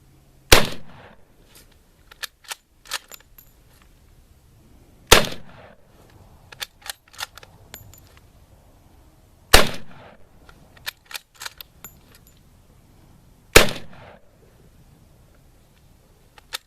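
A Model 1916 Berthier carbine fires four sharp, loud shots spaced several seconds apart, each followed by fainter metallic clicks and clatter of the bolt cycling between shots.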